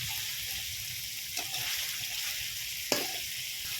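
Spice paste with chopped tomato fries in a pan with a steady, soft sizzle and hiss, broken by a couple of faint clinks of stirring.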